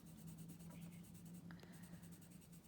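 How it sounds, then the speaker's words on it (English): Pencil shading on paper with the side of the graphite, a soft continuous scratchy rasp with faint rhythmic strokes under a steady low hum. "I'm using mostly the side of my pencil."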